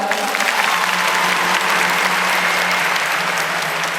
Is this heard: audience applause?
yes